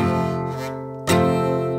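An F barre chord rings on a guitar, then is strummed again with a sharp attack, the chord sustaining close and clear with no talking.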